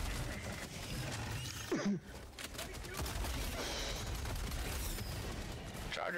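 Rapid gunfire and shotgun blasts in the video game Helldivers 2 during a defense mission, dense overlapping shots with a brief dip, mixed with a voice exclaiming mid-clip.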